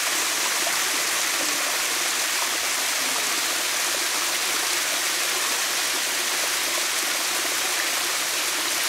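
Spring water from a natural source flows along a stream channel in a continuous, close rushing and babbling wash with no pauses.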